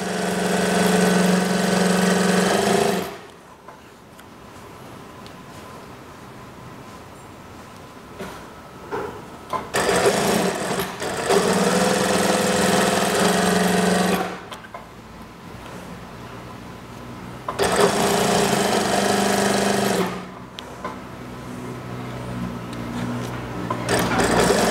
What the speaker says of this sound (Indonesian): Oke, saya jahit lurus sampai ke bawah.